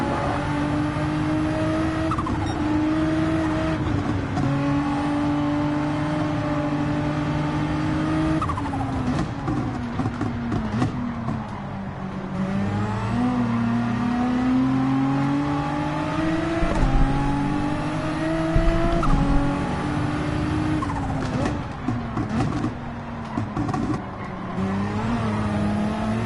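Race cars in Gran Turismo 7 at Daytona roar continuously, engines rising and falling through gear shifts, with a close, loud whine and occasional tire squeal and no talking.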